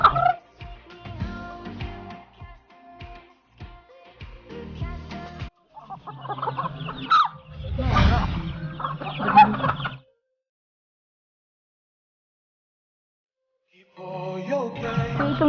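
Hens and their chicks cluck and peep close by on a countryside farm, with busy overlapping calls and chirps, then a stretch of silence before the clucking resumes.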